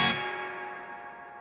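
A guitar note rings out through a reverb pedal with its tone control turned all the way up, a bright, sustained tail that decays slowly and smoothly after a short attack, heard alone and fairly quiet.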